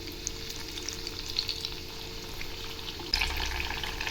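Sweet banana coconut balls frying in a pan, an even close sizzle that swells louder after a few seconds as the balls are turned, with faint stirring and no voices.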